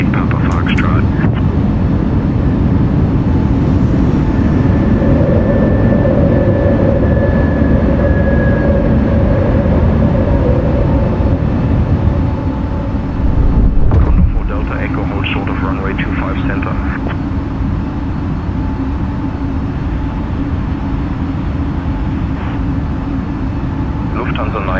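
A Lufthansa airliner rolls down the runway and takes off from Frankfurt in Microsoft Flight Simulator 2024, a loud, constant engine roar with rising whining tones, a brief bump midway, steady throughout.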